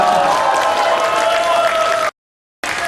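Audience applause at a Partai Demokrat presidential candidate convention debate in Bali, a steady crowd wash mixed with sustained tones, cut off abruptly by a short silence before resuming.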